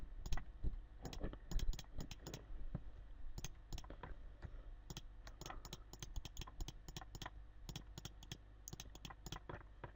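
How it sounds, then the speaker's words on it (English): Rapid irregular clicks of a computer mouse during photo retouching, sharp and close, in quick bursts spread across the whole stretch with no talk. "So I'm just going to Alt click."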